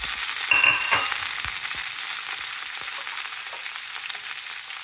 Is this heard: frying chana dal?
yes